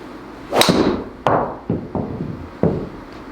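A Mizuno golf driver strikes a golf ball outdoors: a single sharp, loud crack followed by several further distinct impacts spaced about a second apart, each ringing briefly.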